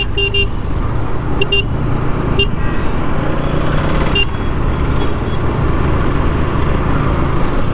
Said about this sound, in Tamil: ஸோ செம்ம டிராஃபிக்குங்க.